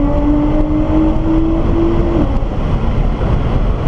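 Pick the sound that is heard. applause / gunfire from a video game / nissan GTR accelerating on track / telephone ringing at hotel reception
nissan GTR accelerating on track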